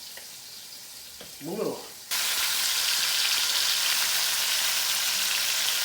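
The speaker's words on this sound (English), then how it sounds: "we're gonna fry this up in batches" Spicy meatballs drop into a hot pan to fry in batches and burst into a loud, steady sizzle that runs to the end, after a brief spoken phrase and some handling noise.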